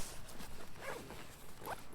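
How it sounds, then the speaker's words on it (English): A zipper being drawn open along the side of a hiking pack, a quick raspy run near the end after softer rustling and handling of the fabric, close and fairly quiet. "But I can unzip the side."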